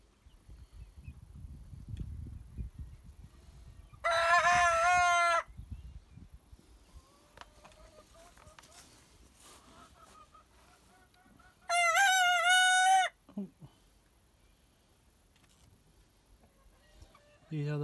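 A young black leghorn rooster crows twice in a backyard flock, each crow a loud, strained call lasting about a second, separated by quiet stretches of soft low clucking and faint background noise.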